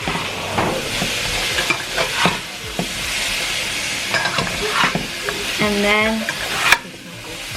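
Salt-and-pepper chicken wings turned and folded with a spatula in a pan, giving scattered scrapes and clacks over a steady frying sizzle, with a voice speaking briefly nearby.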